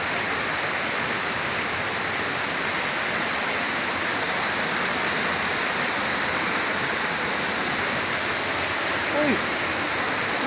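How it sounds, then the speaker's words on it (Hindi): A loud, steady roar of rushing water from a waterfall at Majur Tondri, Bastar, pouring nearby from several directions, continuous and unbroken throughout. "अरे उधर से भी पानी आ रहा है, इधर से भी आ रहा है यार।"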